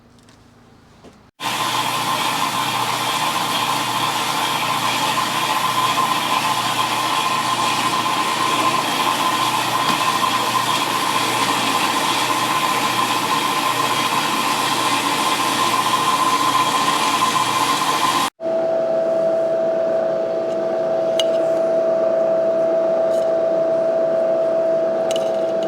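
A machine tool bores a 1.5 inch hole in a crankshaft separator for a Yamaha HS1 90cc twin motorcycle, a loud steady grinding drone running without pause, then cutting off briefly before a quieter whine resumes.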